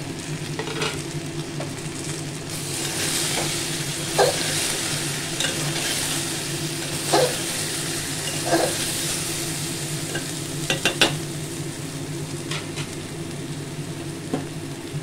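Bori lentil dumplings frying in a vegetable curry, a steady bubbling sizzle close up with occasional clinks and scrapes of a spoon against the pan, no voices.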